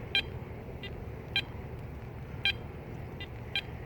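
A metal detector sounds short, evenly pitched blips over a quarter buried eight inches deep, six brief beeps spaced irregularly over a low steady hum of background noise.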